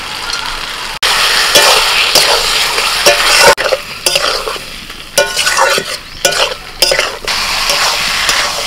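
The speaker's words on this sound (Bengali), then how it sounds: "আরও মিনিট পাঁচেক আমি কষিয়ে নিয়েছি আলু আর ঝিঙেটাকে মশলার সাথে" Fried potatoes and ridge gourd sauté in spices and tomato as a spoon scrapes and stirs them in a pan, giving loud repeated clatters over a constant close sizzle.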